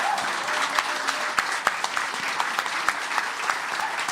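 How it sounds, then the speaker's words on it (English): A crowd at the Hideout music venue in Chicago applauds the staff, giving steady, full clapping with a few sharper individual claps standing out over several seconds. "They deserve a big round of applause."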